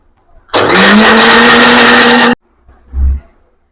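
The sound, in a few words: mixer grinder running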